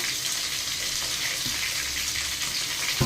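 Dried red chillies hitting hot tempering oil in a home kitchen, a steady close hiss and crackle of frying with a few small pops, no voices.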